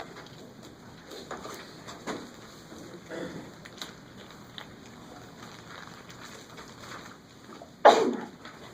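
A sneeze bursts out once near the end, loud and sharp, in a quiet classroom during a math lecture on completing the square, with faint background rustle before it.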